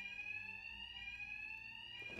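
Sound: alarms ringing in Batman Arkham Knight video game

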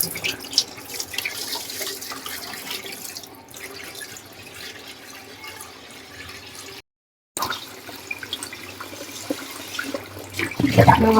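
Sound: water running while washing rice for dosa batter

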